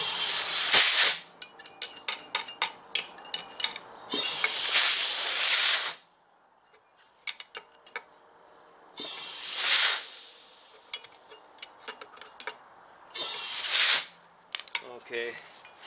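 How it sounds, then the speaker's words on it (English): Compressed air hissing into a truck parking brake chamber in bursts of loud, close, steady hiss, separated by quieter gaps with clicks and clatter of fittings. "I'm going to put air in there"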